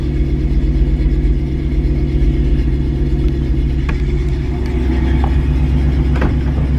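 Old truck engine with wearing valves idling nearby, a loud low rumbling chug that holds steady, with a couple of faint clicks and rattles.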